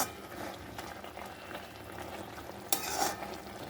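Green bean curry being stirred in a pan after raw mustard oil goes in, a steady bubbling sizzle with soft spoon scrapes throughout and a brief louder burst near the end, close and without talk.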